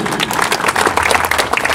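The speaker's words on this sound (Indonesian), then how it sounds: "tepuk tangan untuk kita semua" Clapping from a crowd at an athletics selection event, a dense, brief burst of many hands applauding together at close range.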